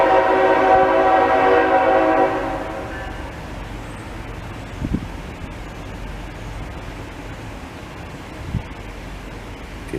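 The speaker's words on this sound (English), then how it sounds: "Can you hear the rumble of the train?" A train passes about two blocks away: a tonal, horn-like sound carries for the first couple of seconds, then drops to a faint, low, steady rumble with a couple of soft thumps.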